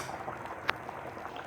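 Fish curry bubbling steadily in a pot on the stove: a low, continuous simmering hiss with one sharp pop of a bursting bubble midway, close and fairly quiet, with no voices.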